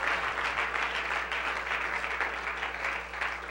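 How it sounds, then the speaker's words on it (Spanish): Church congregation applauding loudly and steadily for the fathers during a worship service, a dense continuous wash of clapping with a low hum underneath and no talk over it. "¿Cuántos pueden dar un aplauso fuerte a los caballeros?"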